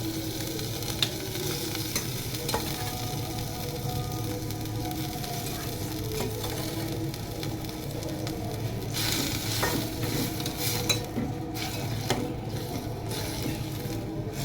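Cooked fenugreek leaves and peas fry in butter in a pan, a constant low sizzle with occasional spatula stirs and light clinks, fairly quiet and without speech.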